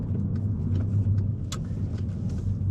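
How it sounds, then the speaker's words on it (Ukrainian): Inside a moving car on the way to a driving lesson, a low steady road rumble and engine hum fill the cabin, with a few faint rattles and one brief sharper click. "Зараз я їду на черговий урок до Тетяни"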